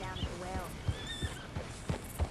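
Horse hooves pounding in a steady galloping rhythm in Red Dead Redemption 2, with a whinny partway through, layered over game music.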